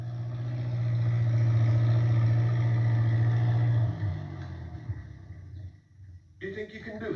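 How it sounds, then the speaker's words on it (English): A farm tractor engine runs steadily, with a strong low hum for about four seconds before it shifts and fades, set in a rainy English countryside cartoon. Music and other sounds take over toward the end. "He's going to try to get through with his tractor."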